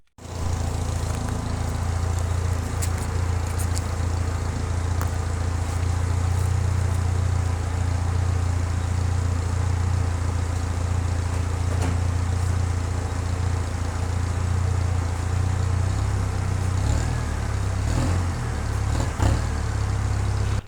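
A Volkswagen Jetta engine idles steadily and loudly with a low, even rumble throughout, and a few faint clicks and rattles over it.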